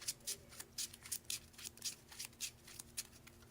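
A deck of trading cards for a tabletop card game being shuffled by hand, with quick, soft, papery riffles and slaps in a loose rhythm, close and quiet.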